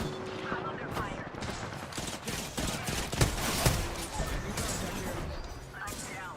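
Rapid bursts of gunfire in the video game Apex Legends, sharp repeated shots in quick succession with a few louder cracks, amid busy game sounds and a player's voice.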